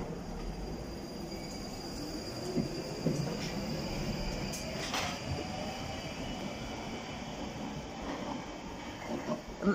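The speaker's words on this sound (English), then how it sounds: "got another Northern Line train coming in for High Barnet" A London Underground Northern Line train bound for High Barnet rolls into a station with a steady low rumble of wheels on rail, faint squealing and a high whine, alone and at moderate distance.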